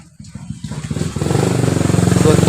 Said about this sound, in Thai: ตอร์ไซค์ผ่านครับ